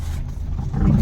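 A car engine revving on a road, a low rumbling roar that swells and grows louder toward the end of a short burst, close by, with no talking.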